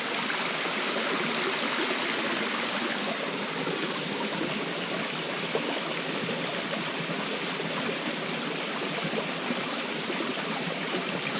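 A stream of running water rushes steadily, a broad continuous hiss and gurgle heard close and alone, along a route from Rosslyn to Lasswade.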